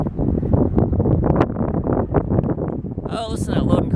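Engines of a drone strain against a strong headwind over a power line, the motor whine surging and dipping under heavy, buffeting wind noise on the microphone.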